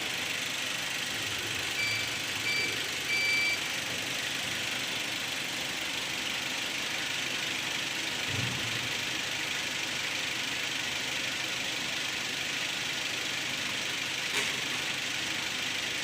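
A 2010 Toyota Avanza Type E engine idles steadily at a steady, low hum through an emissions test, with faint broadband hiss over it and a brief low thump midway.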